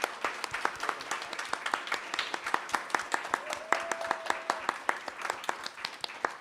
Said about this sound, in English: can we give another big round of applause for our panelists, please?